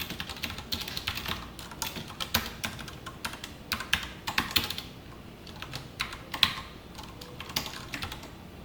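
Code is typed on a computer keyboard in quick, uneven bursts of close, crisp key clicks with short pauses between them, and no one speaks.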